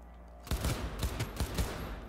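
Rapid bursts of gunfire in Cyberpunk 2077 crack out in a tight volley after a brief quiet start, several loud sharp shots clustered together with ringing tails.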